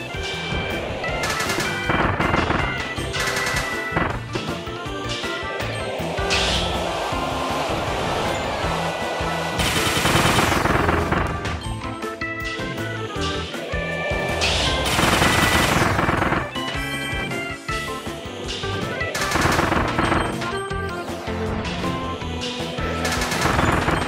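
Cannons fire back in the video game Kirby and the Forgotten Land, with rapid booming shots and blasts mixed into dense, loud game music and effects that run continuously.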